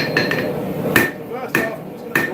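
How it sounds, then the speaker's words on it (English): A blacksmith's hammer strikes hot steel on an anvil, knocking in the corner of a karambit blade: four sharp, ringing metallic blows spaced roughly half a second apart, close and distinct over a low background hum. "using the edge of my hammer as a puller, and I'm going to knock that corner in"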